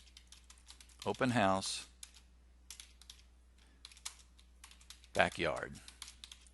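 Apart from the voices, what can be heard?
typing on a computer keyboard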